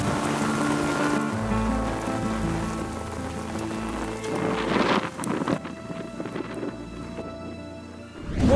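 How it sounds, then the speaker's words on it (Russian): Strong wind roars across an open outdoor space with heavy rain battering the microphone, gusts swelling and buffeting loudly in continuous waves, with a low rumble underneath and no voices. "здесь открытое пространство, и ветер такой сильный, такой мощный"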